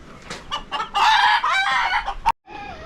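Hens, including broody ones wanting to sit on eggs, cluck and squawk loudly up close in a coop, a rising burst of calls that cuts off abruptly, then a softer cluck.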